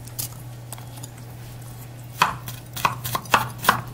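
Fresh basil, chives and two garlic cloves are chopped with a knife on a cutting board: after a quiet stretch over a steady low hum, a handful of crisp, close chops land in uneven rhythm.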